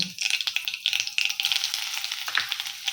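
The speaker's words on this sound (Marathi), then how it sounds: "मोहरी टाकली जिरं टाकूया हिंग थोडासा" Mustard seeds, cumin and asafoetida sizzle and crackle in hot oil in a kadhai, a close, dense spatter of rapid pops with a steady hiss underneath.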